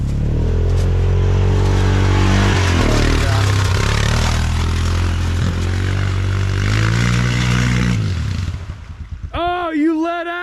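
Vehicle engine roaring loudly as it drives through a puddle at an old farm pond, then abruptly cutting out and stalling, leaving sputtering and people talking afterward.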